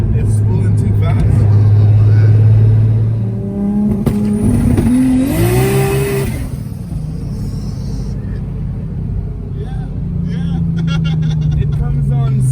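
A Nissan GT-R R34 fitted with a new turbo accelerates hard, its engine rumbling and rising in pitch as the turbo spools, then the throttle drops off before the engine note climbs again; people talk over the engine throughout.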